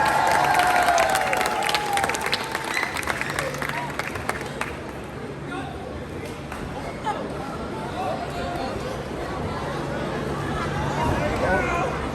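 Spectators at a sumo wrestling demonstration during a Japanese cultural festival cheer and clap, loudest at the start and then settling into a lively crowd murmur, with voices talking over it.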